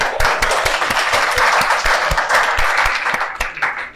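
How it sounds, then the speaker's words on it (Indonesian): Sustained audience clapping fills the room at a school talk-show event, dense and steady throughout before thinning slightly at the end. "Tepuk tangan dong teman-teman."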